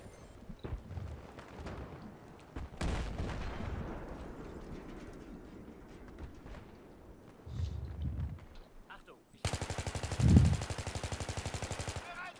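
Gunfire in Battlefield 3 multiplayer on the Grand Bazaar map, with scattered shots early on, then a dense, loud burst of rapid automatic fire near the end.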